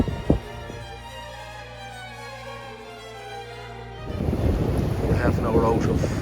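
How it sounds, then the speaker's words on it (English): Wind buffeting a microphone aboard a sailboat under way at sea, a steady low rush with water and hull noise that swells louder and rougher toward the end, with no talk. "The upside is we have wind"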